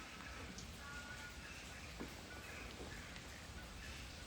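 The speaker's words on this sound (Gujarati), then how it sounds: "વરસાદ ચાલુ થઈ જાય" Light, steady morning rain falling outdoors in the UK, a soft continuous patter at low volume with no clear individual drops.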